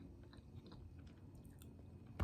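Quiet, close chewing of a crunchy Dubai-style pistachio sweet, with soft crunchy bites repeating irregularly, ending in a brief louder bump.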